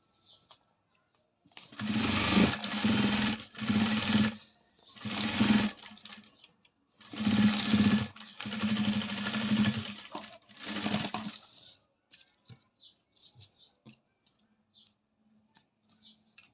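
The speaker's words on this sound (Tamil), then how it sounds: "இந்த ஆப்போசிட்டும் வச்சு ஒரு ஸ்டிச் கொடுத்துக்கலாங்க." Sewing machine stitching a sleeve in several short runs of a few seconds each, a loud, close mechanical whir separated by brief pauses, then quiet handling at the end.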